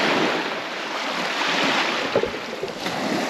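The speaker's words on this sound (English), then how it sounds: "The wind was picking up and it was getting pretty choppy." Strong wind and choppy waves slap around a canoe on Murtle Lake, a steady broad rush of wind noise with small splashes and knocks rising near the end.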